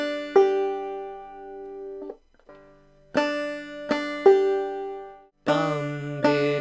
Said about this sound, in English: We're going to build everything from a basic picking pattern that usually gets called the bum ditty